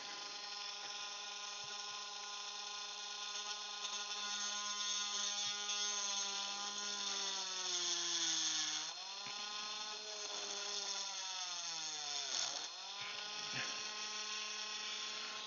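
A steady high-pitched whine of a power drill boring into plastic on a broken propeller, its pitch sagging and recovering as it bogs under load, continuous for the whole stretch.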